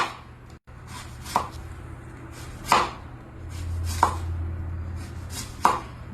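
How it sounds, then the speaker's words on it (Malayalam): Carrots being chopped with a knife on a board for carrot juice: four separate sharp thuds spaced about a second apart, close and clear over a quiet low hum. "നിലവിൽ ഇപ്പോൾ 2 ക്യാരറ്റ് കട്ട് ചെയ്തെടുത്തു"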